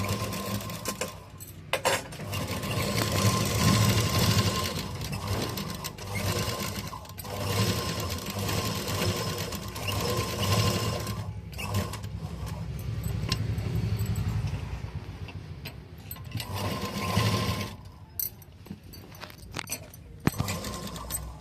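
Y-neck school uniform stitching on a sewing machine, heard as close, fast mechanical runs of stitching that stop and start again with short pauses, plus small handling clicks and no speech.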